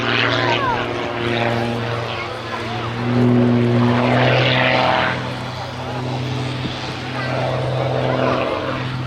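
A propeller aerobatic plane at the Yeovilton International Air Day pulls up into a torque roll, its engine droning loud and steady and swelling and easing as it climbs, with a commentator talking throughout.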